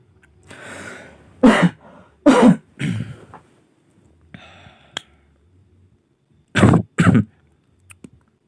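A person coughs and clears their throat repeatedly in sharp, close bursts, with breathy pauses between the fits.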